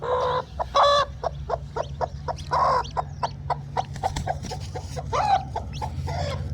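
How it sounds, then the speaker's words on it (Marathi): A Kadaknath hen clucks and squawks in sharp repeated bursts as she is lifted off her hatching eggs, close and loud, with fainter chick peeps between the calls and a low hum beneath. "आता आपण कोंबडी उचलूया आणि बघूया"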